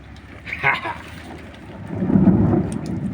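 Hail and thunder during a storm: a rumble of thunder builds and fades, followed by a dense, steady patter of ice pellets striking surfaces close by, growing louder toward the end.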